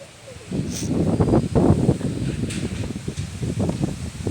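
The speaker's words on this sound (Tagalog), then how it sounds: "Sobrang lakas po ng hangin" Strong habagat monsoon wind buffets the microphone outdoors in low, uneven roaring gusts that swell and fade, with occasional rustling; no one speaks during it.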